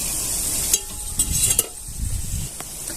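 Paneer gulab jamun sizzling in hot oil while being stirred, a steady close frying hiss with a few sharp scrapes and clicks of the spoon.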